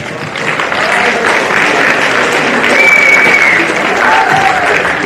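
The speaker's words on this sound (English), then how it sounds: "Well done to round of applause." A crowd at a girls' under-16 football grand final claps loudly and steadily, a thick continuous wash of applause with some cheering voices mixed in.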